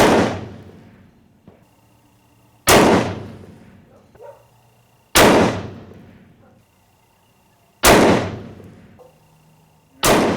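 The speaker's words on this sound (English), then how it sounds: "We'll go shoot 1 round at target number 1. We'll shoot 1 round at target number 2." Four single .338 Lapua rifle shots crack at even intervals, each loud and sharp with a decaying echo across the range, separated by quiet pauses.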